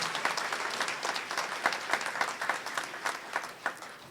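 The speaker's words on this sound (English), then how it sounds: "Give them a round of applause." An audience at a college commencement claps for the faculty, dense applause that is moderately loud at first and then thins into scattered individual claps.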